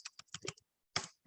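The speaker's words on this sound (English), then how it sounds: "I'm just typing out stuff." Quick clusters of crisp keystrokes on a computer keyboard come close and clear, a burst of several clicks, a short pause, then a few more taps.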